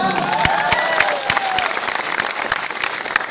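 An audience applauds at a Bhojpuri film launch event in Mumbai, dense continuous clapping with a few sharp distinct claps standing out, mixed with light crowd murmur and a bit of cheering.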